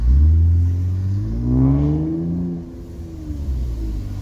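A modified Infiniti Q60's engine and fully open exhaust rise and fall in pitch as the car drives and shifts, a deep, steady drone heard close up.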